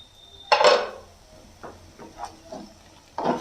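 A metal lid lifted off a cooking pot of oats pulao with peas and vegetables: a sharp clattering clank at the start, then a few lighter knocks and scrapes, and a final clink.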